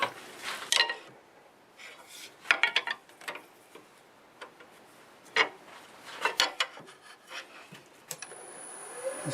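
Wood being scraped on a wood-turning lathe, with scattered rasping and scraping bursts of varying length. Brief irregular knocks fall between them and a faint motor hum runs underneath, all heard close up.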